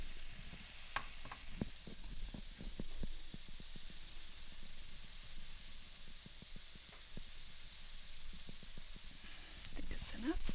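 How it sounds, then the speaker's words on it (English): Carrots, other vegetables and chopped garlic sizzle in a soup pot with a steady hiss, broken by soft scraping from stirring, and a louder crackle rises near the end. "I'm also going to add a couple tablespoons of chopped garlic"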